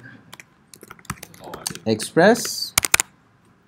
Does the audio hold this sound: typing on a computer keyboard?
yes